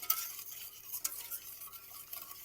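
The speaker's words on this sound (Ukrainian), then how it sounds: "Яйця з молочком і з цукром розмішую." Eggs mixed with milk and sugar stirred in a bowl for a cake, a close, quiet run of scraping, swishing strokes with light clinks of utensil against the bowl, repeating unevenly throughout.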